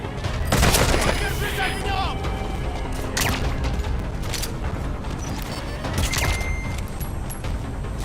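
Heavy gunfire at an outpost in Metal Gear Solid V: The Phantom Pain, loud overlapping bursts and sharp shots with booming impacts, densest near the start and flaring again later, amid clattering battle noise.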